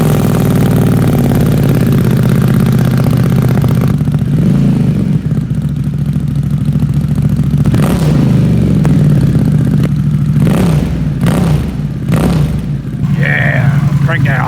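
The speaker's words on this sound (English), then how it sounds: "Now let's cut over to a clip of our new exhaust." Harley-Davidson Pan America motorcycle with Vance and Hines exhaust, a close, loud, steady idle with a deep throbbing rumble and a few short revs, people talking over it.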